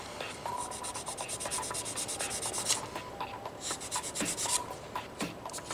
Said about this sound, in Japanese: ある程度のところまで削ったらあとは、いつも使ってるヤスリを使って 修正していきます。